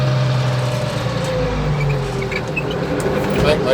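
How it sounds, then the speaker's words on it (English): A tractor engine throttling down before a turn while a GPS guidance system is in use, with a low steady hum that drops in pitch over a few seconds, close and continuous. "throttle down"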